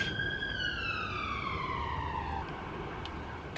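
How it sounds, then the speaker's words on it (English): A passing emergency vehicle siren on a London street, a distant wailing tone sliding steadily downward and then stepping lower as it moves away, faint under steady background noise. "Excuse the siren."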